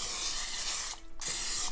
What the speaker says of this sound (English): Spraying it with cooking spray.